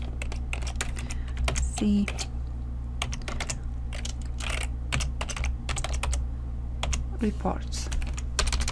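Computer keyboard typing VBA code in Excel: close, irregular clicking keystrokes in short bursts and single taps throughout, with a person speaking briefly among them.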